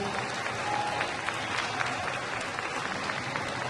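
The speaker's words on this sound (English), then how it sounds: "So give them a large applause." An audience at a hurricane workshop applauds the visiting experts, a steady wash of many hands clapping at moderate level for the whole stretch, with no one talking over it.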